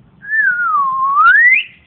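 A grey parrot whistles alone, one clear sustained tone that dips then slides upward, loud and close, imitating a person's whistle.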